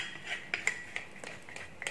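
Martabak batter with melted butter being stirred in a bowl: a steady series of light scraping clinks from the utensil, close and moderately quiet, with no talking.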